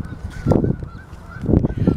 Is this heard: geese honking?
yes